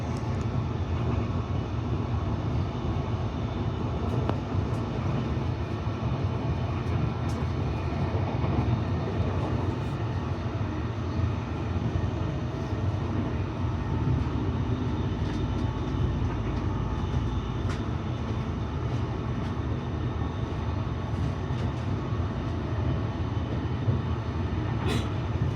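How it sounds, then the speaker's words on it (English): An NGR electric train on Brisbane's Sunshine Coast line gives a steady, continuous rail rumble and hum that holds evenly at moderate volume throughout, with no voices. "Another train finally. NGR as usual."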